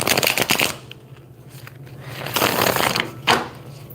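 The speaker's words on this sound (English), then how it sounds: "These used to be my favorite deck, but they're kind of hard to shuffle." A deck of tarot cards is shuffled close up in quick riffling bursts, pausing briefly in the middle before more shuffling and a final sharp snap of cards.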